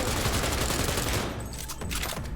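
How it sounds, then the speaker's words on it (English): Cyberpunk 2077 gunfire as Jackie Wells shoots through the floor, a dense, loud burst of rapid automatic shots that thins out briefly halfway, then continues to the end. "Oh no, he's just shooting through the floor."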